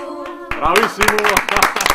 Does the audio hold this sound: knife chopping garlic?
no